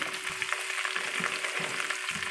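Cumin seeds and curry leaves sizzle in hot oil while cooking a cucumber chutney, a continuous crackling fry with a faint steady hum and occasional stirring scrapes, no voices.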